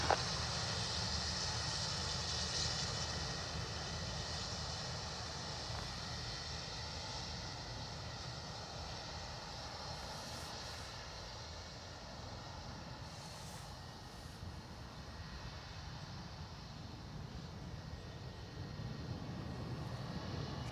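An American Airlines jet on final approach to runway 28 left at Dublin Airport drones steadily as a broad, continuous engine roar heard from a distance, holding level throughout with no voices over it.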